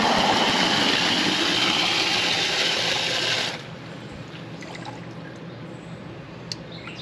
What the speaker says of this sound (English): the water was flowing out way too fast